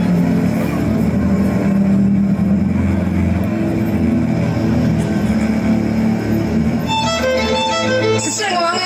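A vehicle starts and pulls away during a school annual day play, a loud steady engine drone with rising tones near the end, probably a played sound effect under stage noise.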